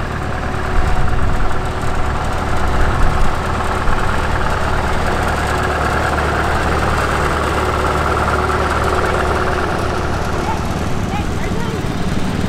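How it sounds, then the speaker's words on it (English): A McCormick Standard W6 tractor rolls past in an International Harvester tractor parade, its engine chugging steadily at low revs, close by and constant, with a few brief louder bursts early on. "Here comes another McCormick Standard tractor"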